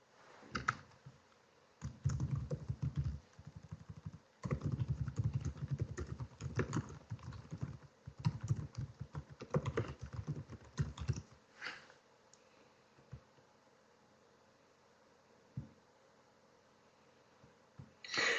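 Typing on a computer keyboard, bursts of rapid close key clatter broken by short pauses, thinning out to a few isolated clicks toward the end.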